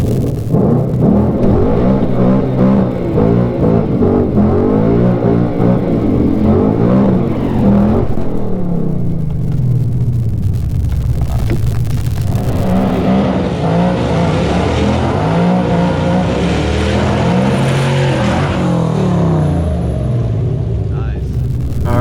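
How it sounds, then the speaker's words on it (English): A 2015 Ford Mustang GT at a drag strip, engine rumbling and revving loudly throughout, with a voice speaking over it. "We're gonna pull up for our burnout here in a sec."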